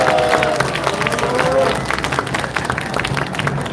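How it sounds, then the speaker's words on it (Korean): An indoor audience at a civic rally event gives a round of clapping mixed with crowd murmur, loud at first and then thinning out toward the end. "박수를 부탁드리겠습니다."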